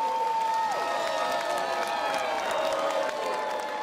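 Spectators at the Australian Ninja Warrior course cheering and clapping, a loud, sustained roar with shouts and whoops over steady applause, filling the whole stretch and easing slightly near the end.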